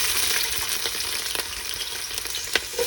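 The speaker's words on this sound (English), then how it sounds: "So put your onion and the garlic together so that you can saute them." Onions and garlic sautéing in hot oil for a pasta vegetable sauce, a loud, close, continuous sizzle broken by small pops and stirring clicks, with no speech.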